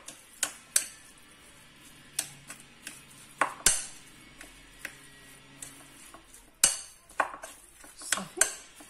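Minced kofta meat being mixed with ginger and salt in a bowl, heard as scattered, uneven clinks and taps of a utensil against the bowl, some sharp and close, with no talking.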